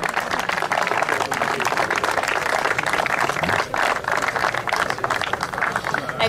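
Audience applause at the closing ceremony of the 50th Italian Meteor class sailing championship, dense steady clapping lasting several seconds from a large crowd, fairly loud and close.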